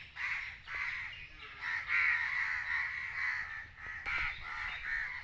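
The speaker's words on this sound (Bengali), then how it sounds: "এই অবস্থারই এইদিকে ওর কতগুলি কাক আছে।" A large flock of crows caws at once in a rural village, rough overlapping calls repeating steadily and fairly loud, swelling and dipping over a few seconds.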